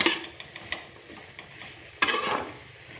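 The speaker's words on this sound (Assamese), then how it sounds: "ধুনীয়াকৈ লৰাই অকণমান ৰখি দিছোঁ।" Homemade leafy greens are stirred in a pan, with light scraping and clinking strokes over a soft frying sizzle, close and fairly quiet.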